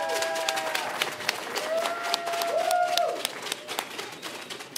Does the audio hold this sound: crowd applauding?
yes